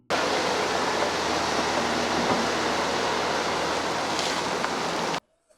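Water released through a demolished dike on the Nkando River, Lualaba, roars in a loud, steady broadband rush like a waterfall, unbroken for about five seconds before cutting off abruptly.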